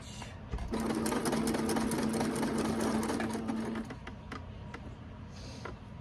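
A home sewing machine stitches a thick self-binding potholder, running in one steady whirring burst for about three seconds before easing into quieter clicks and handling noises.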